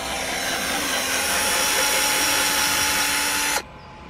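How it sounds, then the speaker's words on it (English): A power drill runs steadily at high speed, boring a pilot hole in the center of a pallet wood plank, then cuts off abruptly near the end, loud and close with no talking. "I'm going to drill a pilot hole in the center of this bit here"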